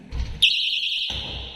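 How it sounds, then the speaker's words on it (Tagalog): An apartment door alarm that sounds when the door is opened: a steady, loud, high electronic beep tone sustained for about a second, cutting off abruptly, with faint room noise before and after. "Kapag yung pinto bubuksan nyo, mag-a-alarm yan."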